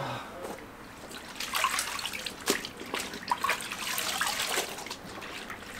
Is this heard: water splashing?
yes